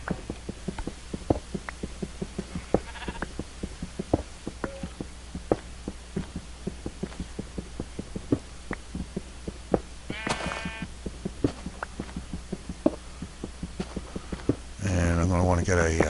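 Sheep bleat in the TFC Modcraft video game, a few short calls rising over a steady run of rhythmic game footsteps and a low hum, with a louder burst of game sound at the very end.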